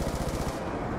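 A gun in Call of Duty Black Ops II Zombies fires a fast, continuous automatic stream of loud, close shots for the full second.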